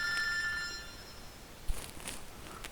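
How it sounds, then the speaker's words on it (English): A telephone rings with an incoming call, a steady electronic ring with bright tonal harmonics in the first half second, then a quiet room with a brief thump and faint rustling. "it's just a phone call"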